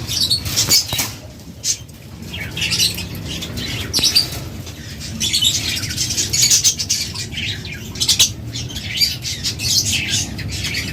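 Busy chatter of lovebirds, with sharp squawks and high chirps overlapping continuously over a low background rumble.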